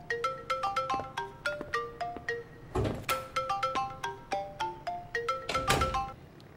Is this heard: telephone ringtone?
yes